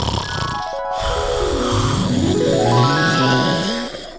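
A Minecraft character snoring in bed, heard as a steady run of tonal, wavering snore sounds that slide down and back up in pitch, fairly loud and continuous throughout.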